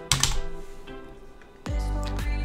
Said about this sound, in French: donc il va falloir taper Olive